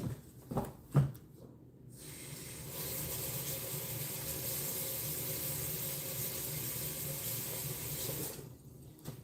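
Tap water runs steadily into a kitchen sink as a pan is rinsed, a continuous hiss lasting several seconds after a few brief clanks, then cut off near the end. It is faint and has no talking.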